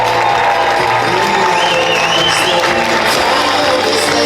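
Audience at a magic show in Middlesbrough applauds and cheers for a performer, a continuous wash of clapping and crowd noise filling the room with a few whoops rising above it.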